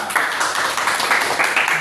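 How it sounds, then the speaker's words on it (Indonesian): A congregation at a church gathering breaks into applause, a dense, even patter of many hands clapping close by that carries on without a break, with no talk over it. "Oke, tepuk tangan ya"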